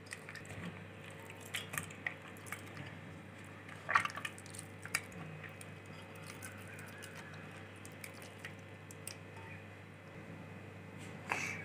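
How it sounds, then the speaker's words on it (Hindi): Wood apple pulp being mixed by hand in water makes faint, sparse squelches and drips, with a few sharper wet squishes standing out over a quiet background. "इस पूरे पानी को मैं इसमें डाल के इसको हाथ से मिक्स कर लूँगी"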